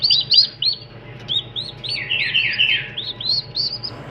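Young turkey poults about a month old chirp in a rapid series of high, thin peeping calls, close by and overlapping, with no talking.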